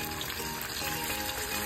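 Chinese new year cake going into a pan of hot oil to fry, giving a steady, close crackling sizzle that holds evenly throughout with no voices.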